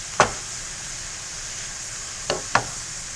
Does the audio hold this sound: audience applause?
no